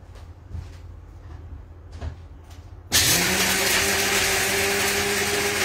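Electric mixer grinder blending about eight dates at home kicks on abruptly after a quieter stretch of faint knocks, then runs as a loud, steady motor whine with a rising pitch through to the end.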